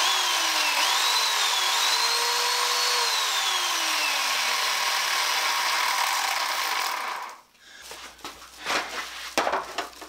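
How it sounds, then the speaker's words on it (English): Chainsaw running steadily and loudly at close range during bathroom demolition, holding a sustained buzzing whine for about seven seconds before cutting off, followed by scattered knocks and handling noises. "Okay, got chainsaw running."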